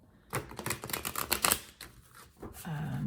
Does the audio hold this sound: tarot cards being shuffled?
yes